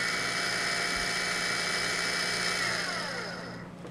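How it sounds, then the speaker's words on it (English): A 12-volt PA-17 heavy duty linear actuator extends with a steady, close electric motor whine and gear buzz that holds for several seconds, then tapers off as it stops. "Applying voltage in one direction will extend the actuator"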